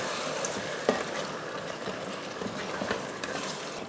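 Pepper chicken curry being stirred in a pan after coconut milk is added: a soft, steady bubbling sizzle with scattered scraping clicks from the spoon, quiet and close, no voices.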